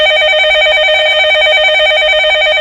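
A telephone rings loudly and continuously, an electronic warbling tone pulsing rapidly and evenly throughout, close and alone with no voices.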